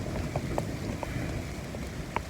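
Steady rain falls outdoors as a dense, even patter with scattered louder drops tapping close by, continuous and unbroken with no voices.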